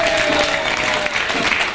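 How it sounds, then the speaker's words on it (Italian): Loud, dense audience applause at a sports club presentation in Riccione, a continuous roar of clapping from a crowd filling the short stretch. "No, cos'è sto applauso?"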